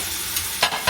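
Onions and tomatoes stirred together in a pot as they fry, a steady sizzle broken by two brief scraping bursts near the end.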